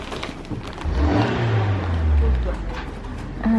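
A white van pulls away from a parked spot beside a car, its engine revving up briefly and then fading, heard close by under background noise.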